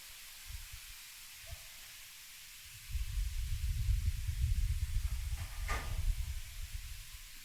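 Shrimp frying in a pan with turmeric powder, a steady low sizzle and hiss that swells abruptly after a few quiet seconds and keeps crackling close by.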